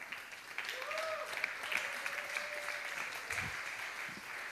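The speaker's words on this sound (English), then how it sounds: "you can keep clapping because there are more of them" A conference audience at the official opening of the SPARSE Plus Symposium claps in steady applause, moderate and somewhat distant, while a voice speaks over it.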